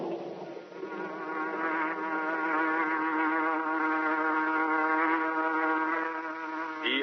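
A buzzing hornet effect opens a Green Hornet radio drama, a loud, continuous insect-like drone that wavers in pitch and holds steady for several seconds, alone without voices.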